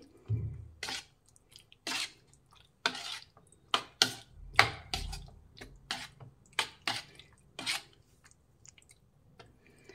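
Boneless chicken pieces being mixed with marinade in a bowl for KFC-style popcorn chicken: close, irregular wet clicks, taps and scrapes scattered throughout, with no talking.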